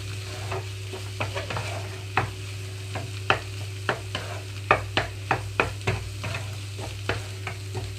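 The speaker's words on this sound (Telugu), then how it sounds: "మీడియం ఫ్లేమ్లోకి స్టవ్ టర్న్ చేసుకున్న తర్వాత మొత్తం కూడా కలిసేలాగా చూసుకుంటున్నాను ఎగ్ అంతా కూడా" Carrot and egg fry stirred in a pan over a medium flame, a steady sizzle punctuated by repeated sharp scrapes and taps of the spatula at an irregular rhythm.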